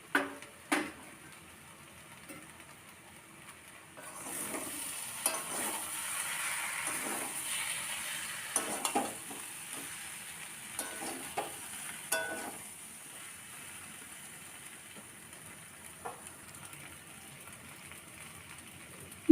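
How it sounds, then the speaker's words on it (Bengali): Ground spices with turmeric, salt and Kashmiri chili powder frying in a kadai wok for a fish head curry, a soft, close sizzle with occasional stirring clinks and scrapes, fairly quiet throughout. "অল্প করে জল দিয়ে আমি মশলাটি কষিয়ে নেব, কারণ যাতে মশলাটি কড়াইয়ের গায়ে না লেগে যায়"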